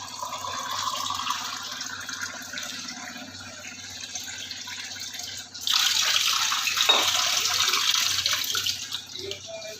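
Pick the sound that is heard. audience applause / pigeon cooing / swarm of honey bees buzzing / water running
water running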